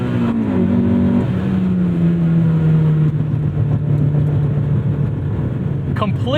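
A 1998 Honda Civic Type R EK9 engine drones loud and close with a steady high-revving tone, climbing into VTEC, and a short sharp rev rises near the end.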